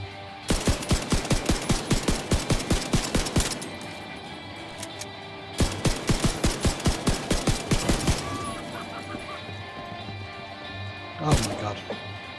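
Automatic gunfire in The Division 2, two long rapid bursts of evenly spaced sharp shots with a pause between and a single loud report near the end, close and prominent.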